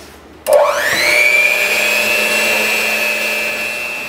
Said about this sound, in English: finished whipping up the meringue